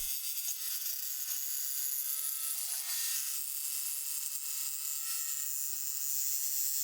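Bosch GST 18V-Li S cordless jigsaw making a curved cut through a board, a steady high-pitched buzzing saw whine running continuously at close range.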